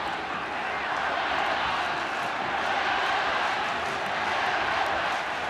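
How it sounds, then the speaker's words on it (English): A large crowd roars steadily throughout a 1992 rugby league match, Manly versus Illawarra, a dense, continuous wash of voices and cheering from a stadium, loud and unbroken. "Listen to the roar from the crowd."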